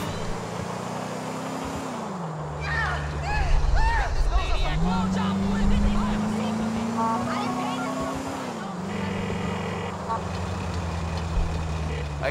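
A car engine in the video game GTA IV, running rough and making nasty noises, drones steadily while its pitch rises and falls between shifts, with people talking over it.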